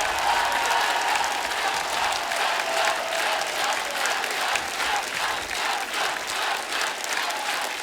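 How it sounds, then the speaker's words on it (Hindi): Loud, sustained applause and crowd noise from a studio audience on the Kapil Sharma Show greeting Salman Khan and Pooja, dense clapping filling the whole stretch. "एक बार जोरदार तालियां।"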